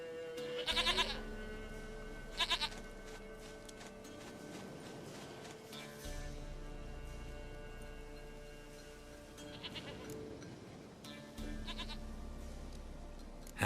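A goat in The Witcher 3: Wild Hunt bleats repeatedly, several distinct wavering cries spaced a few seconds apart, clear and near over a steady layer of game music.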